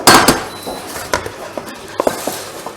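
Roasted sweet potato dip ingredients worked together by hand on a chopping board, with a series of sharp close knocks, taps and scraping clicks at an uneven rhythm and no talking.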